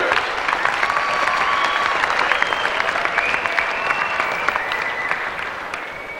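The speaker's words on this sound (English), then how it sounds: "please give a warm round of appreciation and applause for all our Proficiency Award winners" A large audience at an FFA state leadership conference applauds proficiency award winners with loud, continuous, dense clapping, a few whoops and tones rising over it, holding steady throughout.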